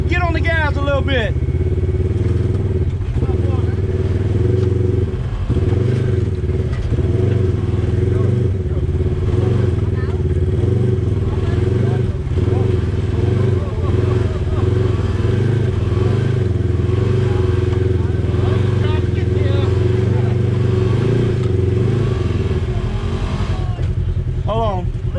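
An ATV engine revving and labouring at an off-road park, a loud continuous rough drone with wavering pitch as the throttle shifts, close by, with people talking over it.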